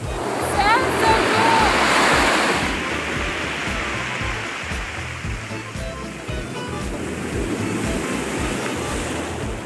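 Ocean surf washes steadily onto a pebble beach, a loud rushing roar that swells and slowly recedes, with a brief high chirp early on.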